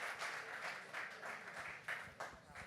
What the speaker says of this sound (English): give him a warm round of applause again as we welcome Kyle